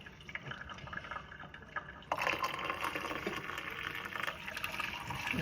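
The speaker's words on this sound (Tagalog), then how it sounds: "I-drain muna natin yung ating buldak noodles." Water drains from cooked Buldak noodles in a gushing, splashing pour, quiet at first and then louder and steadier for several seconds.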